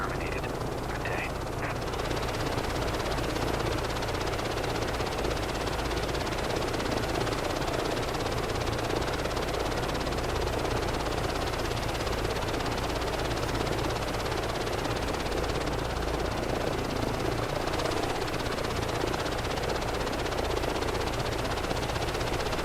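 Reverse thrust on a PMDG 737-800 in a flight simulator game at Amsterdam Schiphol gives a loud continuous engine roar with a steady rumble, unchanging throughout.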